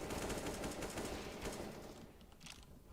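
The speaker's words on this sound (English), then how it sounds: "Can't believe I missed all those shots." Rapid bursts of AK rifle fire in a video game, a dense, loud rattle of overlapping shots that continues for about two seconds and then thins into scattered, fainter reports.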